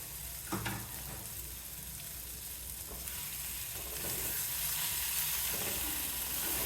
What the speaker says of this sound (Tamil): காலிஃப்ளவர் நல்லா வெந்து மசாலாவோடு சேர்ந்து நல்லா செவந்து வர்ற வரைக்கும் அடிக்கடி கிளறி விட்டு வதக்கணும்